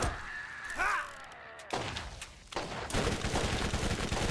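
Gunfire from the video game Borderlands, with a revolver among the weapons, comes as dense, booming bursts that swell after a quieter start and stay loud and sustained to the end, with no speech.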